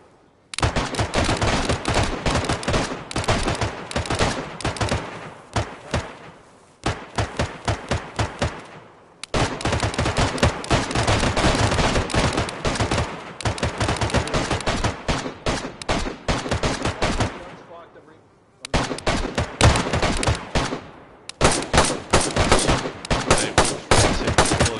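Sustained gunfire rattles through a DayZ military operation set in 1968, with dense, loud bursts of automatic and rapid rifle fire running almost without pause, broken only by a few brief gaps.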